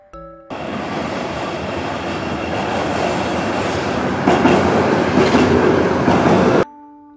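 A tram rolls along rails as a loud, steady rumble that swells slightly near the end, with faint wheel clatter, starting abruptly and cutting off sharply.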